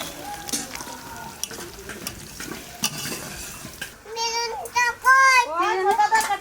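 Fish curry of hilsa being stirred in a hot pan, with a steady oily sizzle and scraping strokes, while people talk in the background and a voice cuts in near the end.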